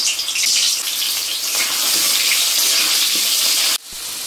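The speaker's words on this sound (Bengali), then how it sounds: "আমার তেল গরম হয়ে গেছে, আমি আলুগুলো ভেজে নিচ্ছি।" Potatoes fry in hot oil with a loud, dense, continuous hiss up close, cutting off abruptly near the end.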